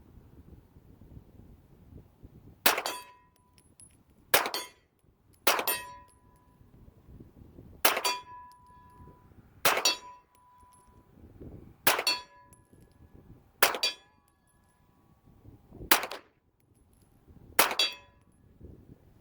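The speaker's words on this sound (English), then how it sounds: "Let's see if I can bank some steel from back here with the Ruger 9mm carbine." Ruger 9mm carbine rounds strike steel targets at 50 yards, producing nine bright, ringing metallic clangs spaced roughly two seconds apart, each decaying quickly over faint wind noise.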